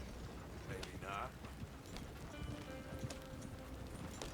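Faint hoofbeats clatter in a steady rhythm as a horse moves along in Red Dead Redemption II, the footfalls sitting low beneath someone talking and quiet game ambience.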